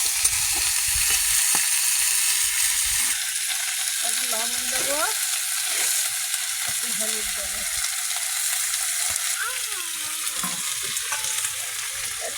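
Cumin seeds, black cumin and flat beans sizzle and crackle steadily in hot oil, a dense continuous frying hiss with occasional stirring clinks, loud and close throughout.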